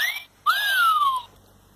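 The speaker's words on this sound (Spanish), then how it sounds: "Ahora un pito." A whistle sound effect: a short rising tone, a pause, then a longer, louder note that slides slowly downward before cutting off, clear and alone against near silence.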